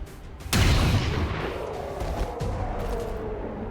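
A single loud sniper shot in XCOM 2, a sharp close crack followed by a long rumbling tail and lingering battlefield noise.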